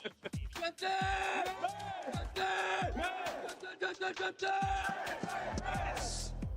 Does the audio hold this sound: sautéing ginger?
no